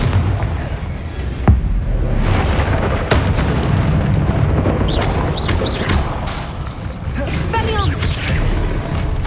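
Spell explosions in a Hogwarts Legacy battle: loud booms and sharp bursts land at intervals over a continuous dense roar of combat effects, with whooshing sweeps and shouted voices in between.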